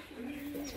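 Desi giribaj pigeons coo in one soft, sustained low call lasting under a second, close and alone against faint background hiss.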